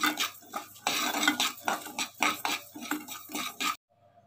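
Samai (little millet) rice dry-roasted without oil in a heavy-bottomed pan, stirred in close, rhythmic bursts of scraping and rattling against the metal, ending abruptly in near silence.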